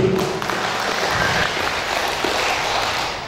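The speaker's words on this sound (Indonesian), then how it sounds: "Tepuk tangan dulu." Audience applause at an evening reunion gathering of former BKKBN employees in Bengkalis Regency, a steady dense wash of clapping filling the room for several seconds with no clear voices.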